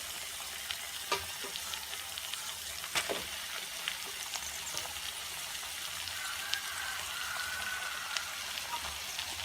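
Boiled noodles with chilli sauce stir-fry in a pan, giving a steady hissing sizzle with occasional sharp utensil clicks as they are tossed.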